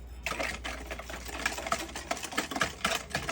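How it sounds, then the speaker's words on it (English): A whisk beats a cup of milk into pudding mix in a bowl, giving a steady, close, busy rattle of rapid clicking strokes that runs without a break. "Whisk in a cup of milk"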